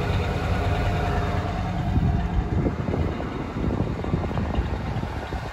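A 1969 Lincoln Mark III V8 with stock exhaust idles quietly at fast idle, giving a steady low rumble that holds close and even from start to finish with no one talking.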